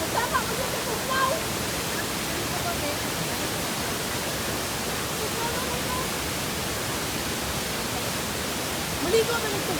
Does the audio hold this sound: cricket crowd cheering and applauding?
no